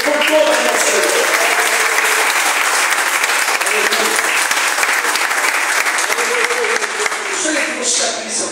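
A church congregation applauds, with dense, sustained clapping from many hands filling the space. It stays loud and even throughout, easing slightly near the end.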